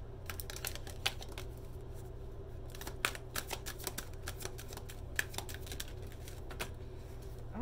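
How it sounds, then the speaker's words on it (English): Tarot cards shuffling and spilling from the deck, a dense run of crisp paper flicks and slaps at close range over a steady low hum, with a few sharper snaps standing out. "golly, there's a bunch of cards flying."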